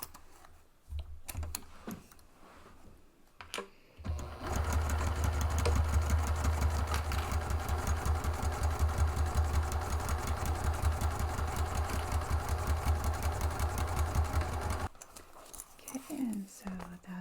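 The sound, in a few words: sewing machine stitching bag panel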